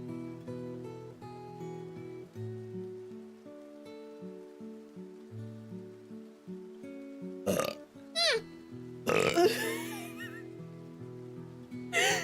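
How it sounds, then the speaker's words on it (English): A person burps, with a few rough, gurgly bursts near the end that rise over soft, stepping background music. "I burped"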